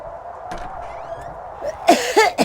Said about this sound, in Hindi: लेकिन दादी की खांसी तो बढ़ती जा रही है।